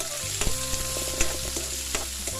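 Dried chillies and onion sizzle and fry in a pan for a chana dal sundal while a spoon stirs them, with a steady frying hiss and a few sharp scraping clicks.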